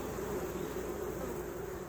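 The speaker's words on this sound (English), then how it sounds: "they're certainly busy little bees." Honeybees hum around a hive while collecting pollen, a continuous, fairly faint buzzing swarm with no voices over it.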